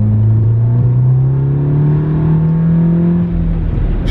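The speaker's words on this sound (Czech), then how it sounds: "Tady za tou zatáčkou tomu šlápneš. Jo, jakože normálně, normálně dej plný plyn." A 370-horsepower car accelerates at full throttle from inside the cabin, a loud, close engine drone whose pitch climbs steadily through the rev range before dropping briefly near the end.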